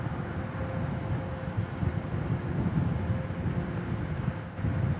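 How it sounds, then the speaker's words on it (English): Steady, blustery wind buffets a camera tripod and microphone outdoors at an airport plane-spotting spot, a continuous low rumble with gusts throughout. "And there's the wind blowing my tripod"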